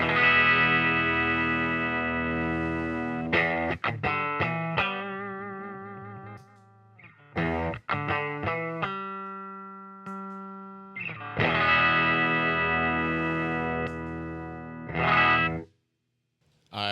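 Electric guitar through a RoIR CA-108b compressor fuzz pedal plays fuzzy, compressed chords and choppy staccato stabs with gaps between them, including single sustained notes, moderately loud and heard alone without talk.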